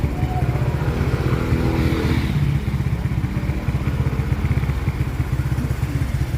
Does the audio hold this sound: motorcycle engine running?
yes